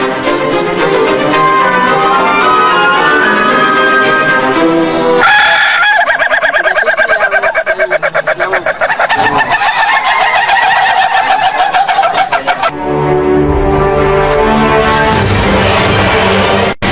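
A rooster crows loudly and close by several times in succession, with clucking between the calls and no other voices.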